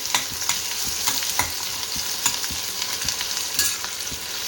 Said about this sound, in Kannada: ಇದನ್ನು ನೀಟಾಗಿ ಫ್ರೈ ಮಾಡ್ಕೋಬೇಕು.